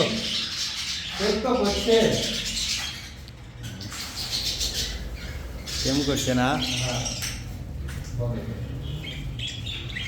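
Harsh squawks and chirps from pet budgerigars and cockatiels repeat through the clip, close by, mixed with people talking over a steady noisy background.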